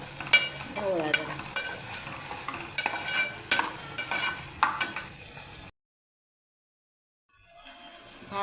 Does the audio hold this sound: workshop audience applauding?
no